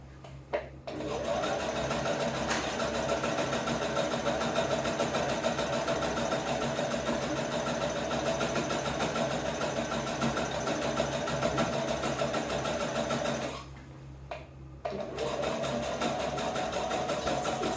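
A sewing machine whirs steadily as it stitches a crochet granny square bag, close and loud, stops briefly near the end, then starts running again.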